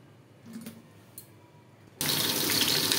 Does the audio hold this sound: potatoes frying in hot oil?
yes